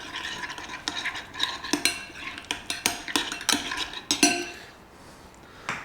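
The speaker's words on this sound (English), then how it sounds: "Mix that in there." A utensil stirs an extra virgin olive oil mixture for pulled pork in a bowl, making steady scraping swishes with light clinks against the side. The sound is close and clear, then fades to quiet near the end.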